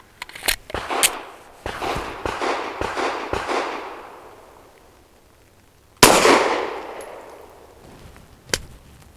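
Shots from a Saricam S19 pistol firing SIG V-Crown Elite Defense 147 grain rounds: a rapid string of sharp, loud cracks, then a pause and a second burst followed by one more isolated report, all close and with no talk.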